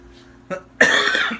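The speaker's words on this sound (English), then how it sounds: "Excuse the cough there." A short throat catch followed by one loud, harsh cough close to the microphone.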